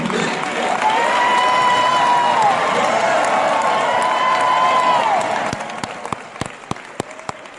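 An audience applauds and cheers in a steady, dense roar of clapping with a few voices rising over it, then fades to scattered single claps.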